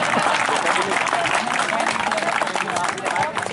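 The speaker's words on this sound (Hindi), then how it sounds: "और उस टीम के लिए भी ताली बजा दी" Audience clapping for a children's quiz team, dense steady applause from a crowd with background murmur throughout, near and fairly loud.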